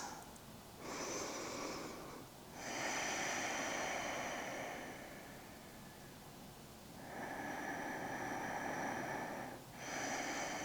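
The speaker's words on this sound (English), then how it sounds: "Inhales and exhales through the nose." A person breathes slowly in and out through the nose during a prenatal Pilates session, with long soft airy rushes alternating in an even rhythm, quiet and close.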